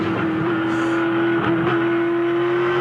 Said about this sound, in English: Little reset of the throttle for Tander, just waiting for grip to return in the front before he picks it up